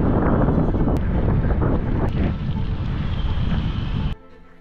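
Heavy, steady wind roars across the microphone while cycling outdoors in drizzle in the Netherlands, loud and continuous before dropping off sharply near the end.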